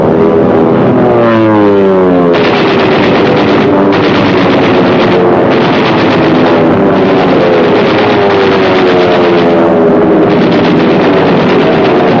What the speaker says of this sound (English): More than 800 Allied planes went into action, some 600 of them piloted by Americans.